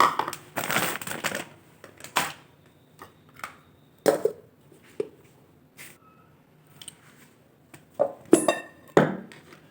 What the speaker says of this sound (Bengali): সুজিটাকেও আমি একটু গুঁড়ো করে নেব